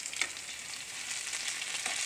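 Homemade french fries fry in hot oil, a dense, steady crackling sizzle heard up close with a few sharper pops and no voices.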